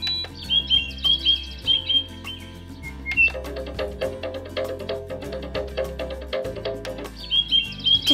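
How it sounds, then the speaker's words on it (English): Synthesized bird chime from a Lumie Bodyclock Go 75 alarm clock: repeated electronic chirps and tweets over a gentle melodic tone pattern, clear and close, with no voices. "To select the bird chime"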